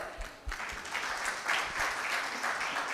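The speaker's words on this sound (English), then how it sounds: "Let us give them a big round of applause." Audience applause for speakers at a session on children's visual challenges rises into a moderate, fairly distant wash of clapping that holds steady for a few seconds.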